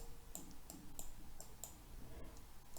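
Faint computer mouse clicks while pressing buttons in Microsoft Word, about six crisp evenly spaced clicks over a quiet background with no talking.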